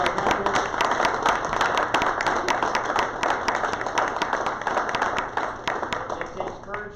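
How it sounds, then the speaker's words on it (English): A room of people at a Rotary club meeting applauds a political candidate with dense, rapid clapping that holds steady for several seconds. "A round of applause for our candidate."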